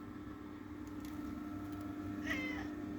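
A cat meows once, fairly close, over a steady low mechanical hum.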